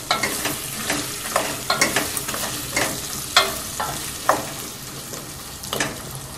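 Vegetables fry in spiced ghee in a pan, with a steady close sizzle broken by regular scraping stirs roughly every half second, and no voices.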